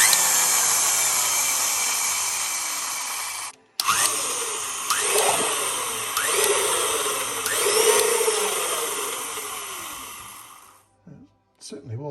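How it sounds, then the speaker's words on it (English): An old DeSoto drill runs steadily, stirring very thick paint, with a continuous broadband whine that keeps going for several seconds, cuts out briefly, then resumes with rising whirs. A short stop and a few light knocks come near the end. "The only drill I could find was an old DeSoto of Opars."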